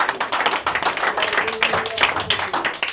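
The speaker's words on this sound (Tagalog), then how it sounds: "Palakpak para sa Ginoo." A church congregation applauds, dense steady clapping from many hands filling the room at a fairly loud level, with some voices mixed in.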